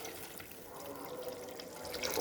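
Water pours into a pan for upma, giving a soft, steady splashing trickle that sounds quiet and close.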